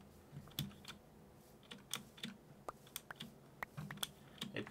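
Typing on a loud Razer computer keyboard, played beside a regular Dell keyboard during Minecraft; a steady run of close, sharp key clicks and clacks in uneven bursts with no talking.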